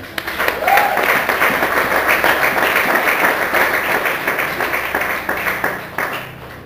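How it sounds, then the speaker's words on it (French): A church congregation applauding during a praise and worship service, steady dense clapping that holds loud throughout and tapers slightly near the end, with a voice briefly over it. "Applaudissez pour le Seigneur."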